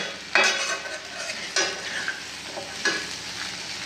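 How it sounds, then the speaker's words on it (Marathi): Bhogi vegetable curry stirred in a pan, with a spoon scraping in three distinct strokes over a steady sizzle, close and fairly loud, with no voices. "हे बघा, थोडंसं असं हलवून घेते."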